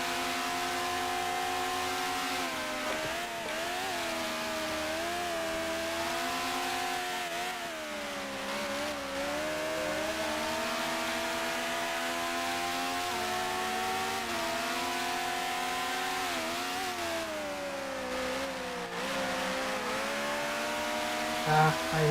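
A Brabham BT11 racing car in Grand Prix Legends, driven around Goodwood in 1965 trim, drones steadily with its engine rising and falling through the revs and gear shifts, loud and continuous with no pauses.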